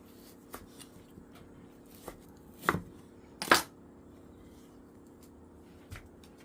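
Pork is chopped into adobo-sized pieces on a cutting board in a quiet kitchen: a handful of sparse knife knocks, two louder thuds near the middle, and soft taps between them.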